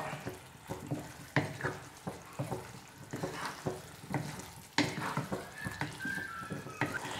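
Tofu matar masala being stirred with garam masala in a pan: repeated scraping stirs over a soft sizzle, a fairly regular rhythm of spoon strokes close up, with no talk.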